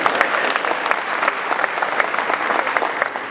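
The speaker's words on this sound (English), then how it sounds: "Let's give him a round of applause." An audience at a presentation in an ICT facility gives a round of applause: steady, dense clapping from a crowd, fairly close, with no voices on top.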